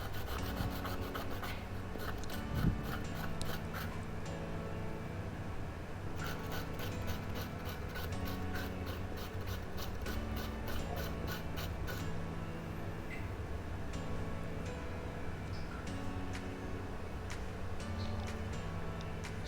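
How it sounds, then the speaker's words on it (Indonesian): Steady, continuous rasping of sandpaper rubbing back and forth, close and fairly quiet, with faint music playing in the background. "Kita rapikan dulu menggunakan amplas"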